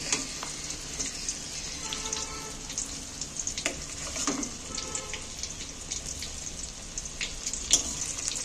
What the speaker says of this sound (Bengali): এইভাবে আমি চালিয়ে চালিয়ে সব মাছগুলোকে দিয়ে দিচ্ছি তেলের মধ্যে তুলে দিচ্ছি